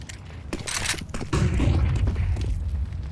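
A heavy grenade blast from Counter-Strike during a match booms and thuds, then leaves a low rumbling tail, with a few sharp clicks and mechanical clatters around it.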